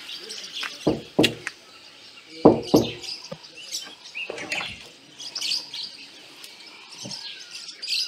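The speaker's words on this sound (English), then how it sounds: "I'll give a courtesy knock." Two quick pairs of sharp knocks land on a camp toilet door at Nyamepi Camp in Mana Pools, Zimbabwe. Close, bright birdsong chirps continue around and after them.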